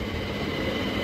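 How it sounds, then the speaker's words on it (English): A long train passes on the rails nearby, a steady broadband rumble and rolling noise that holds evenly throughout without a break. "Look at the train."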